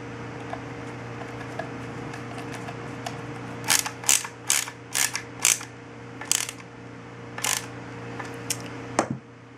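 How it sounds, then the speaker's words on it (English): A screwdriver tightening the barrel band on a Ruger 10/22 rifle, with a string of sharp metallic clicks in short uneven bursts over a steady low hum, with no talk. "The only thing I don't like about tightening up this barrel band with a screwdriver"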